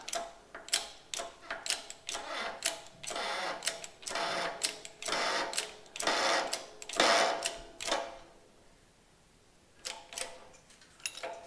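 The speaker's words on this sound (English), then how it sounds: "I need to press this down in to the cylinder, just like that." A hydraulic press pushing a ram into a cylinder gives a series of short, rhythmic mechanical pulses and clicks, close by and moderately loud, pausing briefly near the end before a few more strokes.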